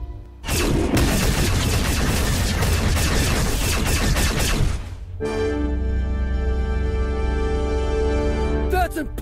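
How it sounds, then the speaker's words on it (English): A rapid volley of heavy gunfire and blasts from an animated Star Wars parody, loud and dense for several seconds, then giving way to a sustained ringing tone and a final swoosh. "I want every gun we have to fire on those two"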